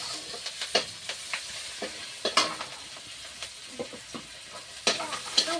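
Chopped onion and split green chillies frying in a pan, sizzling steadily up close while a spatula scrapes and stirs in sharp, irregular clacks.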